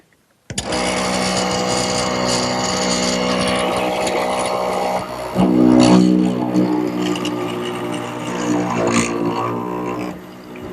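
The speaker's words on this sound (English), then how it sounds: "and I can cut my mortise" A router or similar power tool runs steadily, cutting a mortise into a turned wooden bed post, its whine loud and continuous throughout with a brief heavier load partway through.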